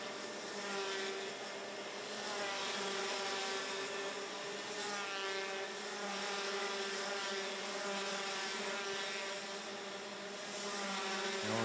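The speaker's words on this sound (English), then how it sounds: "He's about a kart length and a half behind Butcher as they head into the second to last corner." Rotax Max senior racing karts at a winter cup race, a high, buzzing two-stroke engine drone that holds steady and shifts pitch slightly as the pack runs through the corners, heard at a distance with no voices.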